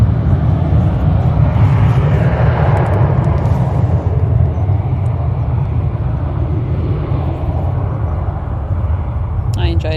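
A Ryanair airliner taxiing at Manchester Airport gives a loud, steady engine roar and broad rushing hum that holds throughout, heard outdoors with people talking over it.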